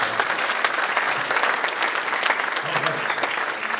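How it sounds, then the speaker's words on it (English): A crowd applauds a school band at a winter concert with sustained, dense clapping that holds steady throughout, fairly close and loud. "let's give them a nice, another nice round of applause"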